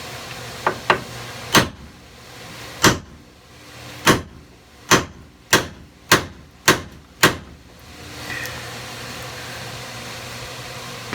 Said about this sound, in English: we'll go ahead and we'll try to knock this out with a hammer